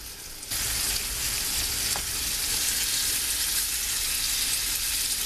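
Oxtail pieces for oxtail soup sizzle loudly in a hot pan, a steady close frying hiss that starts abruptly and holds without a break.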